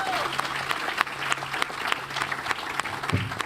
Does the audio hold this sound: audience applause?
yes